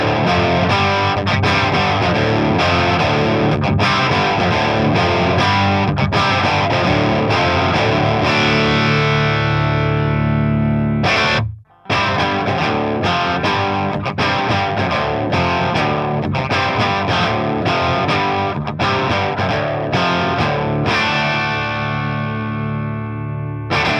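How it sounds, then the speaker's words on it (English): An electric guitar with a Seymour Duncan JB pickup and 11-gauge strings plays heavily distorted riffs through an amp rig with the pedalboard bypassed. The loud, dense strumming drops out for a brief gap halfway, then resumes. "let's hear how those guitars sound going through the same rig but with the bypass pedal board"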